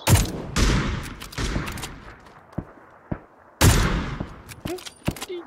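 Video game gunfire during a multiplayer shooter: two loud bursts of rapid automatic shots separated by a quieter stretch of scattered single cracks and fading echoes, with no talking.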